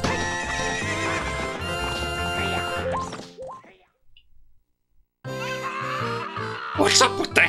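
Epona, the horse in the Zelda: Ocarina of Time video game, neighs and whinnies loudly over busy game music and clip-clop hoofbeats, which drop to near silence midway before the music and neighing return.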